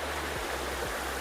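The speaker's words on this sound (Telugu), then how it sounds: "ఇది ఇక్కడ వాటర్ ఫాల్." Steady broadband rush of a waterfall near the origin of the Musi River in the Ananthagiri Hills, water pouring down continuously and close by, with no voices over it.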